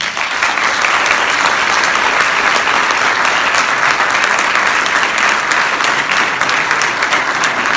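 An audience at a film premiere in Reims claps steadily and loudly throughout, a dense uniform wash of applause with no voices above it.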